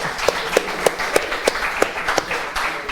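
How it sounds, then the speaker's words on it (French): Students in a quiz-game audience clap along in a regular, evenly spaced rhythm of distinct handclaps over a softer bed of scattered applause. "on peut réapplaudir"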